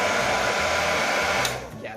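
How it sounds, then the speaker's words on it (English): A hair dryer runs with a loud, steady blowing whir that is close and continuous, then dips slightly near the end. "Yeah, it's definitely a good hairdryer."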